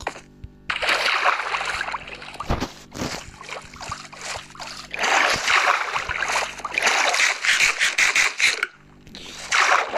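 A small boat glides across water in the Minecraft video game, giving bursts of splashing and trickling paddle sounds separated by brief quiet gaps.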